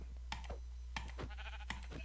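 Sheep bleating in a video game, a few short bleats spaced over about two seconds, with light clicking between them and a steady low hum underneath.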